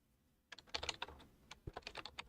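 Fingers tap quickly on a computer keyboard in a quiet room, a close run of crisp clicks and key presses following a brief silence.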